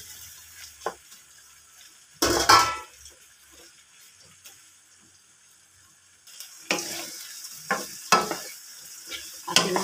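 Shrimp hit a pan of garlic butter sauce with a loud burst of sizzling, then quiet frying and later more sizzling with clinking and scraping as they are stirred.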